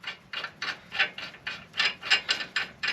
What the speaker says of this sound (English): let's get a lug nut put back on